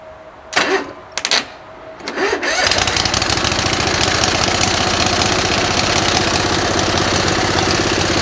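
After a few cranking bursts, a motorcycle engine freshly swapped in catches and runs at a steady, loud, close idle with an even pulsing rhythm, no throttle applied.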